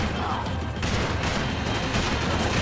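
Gunfire in the video game Max Payne 3, a short loud stretch of dense rapid shots and crashing impacts with no clear pauses.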